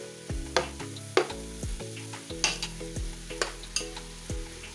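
Vegetables for an Onam sadhya thoran fry in a pan with a low sizzle, while a utensil scrapes and knocks against the pan in evenly spaced strokes.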